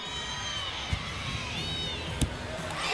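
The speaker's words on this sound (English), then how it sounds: "the crowd comes alive now with Haley Bryant on the runway" Crowd noise swelling at a college gymnastics meet, West Virginia at LSU, as Haley Bryant stands on the vault runway; steady broad cheering and whoops with a couple of sharp claps or thuds, rising slightly at the end.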